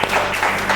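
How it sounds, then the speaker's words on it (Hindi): An audience claps for itself at a quiz show held at an academy, filling a short, steady burst of applause with no pauses. "तो एक बार हमारे ऑडियंस के लिए जोरदार तालियां हो जाए"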